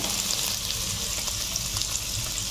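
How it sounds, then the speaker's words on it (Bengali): Ginger-garlic paste and spices sauté in a hot pan for ridge gourd dal, giving a steady, close, even sizzle that hisses without a break. "আবার আমি 1 মিনিট একটু কষিয়ে নেব"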